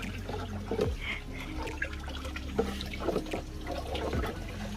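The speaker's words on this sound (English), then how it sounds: "chicken manure mixed with water and then used to water the plants" Water mixed with chicken manure being poured onto garden plants on a farm, soft irregular splashing and trickling with a few louder gushes, close by and without talk.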